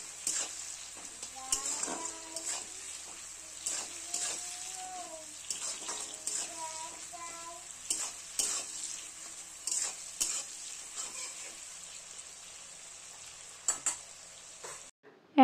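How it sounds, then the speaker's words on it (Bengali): Tomatoes and other ingredients frying in a pan for a fish roe, lentil and raw potato dish, with a steady sizzle, repeated stirring scrapes and clatters, and occasional brief tones. "এখানে আমি সব উপকরণগুলো একটু বেশ ভালো করে ভেজে নিচ্ছি।"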